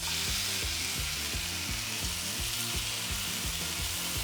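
Sliced cabbage kimchi sizzles hard in a hot pan for kimchi fried rice, a loud steady frying hiss with rhythmic scraping stirs running throughout, no voices.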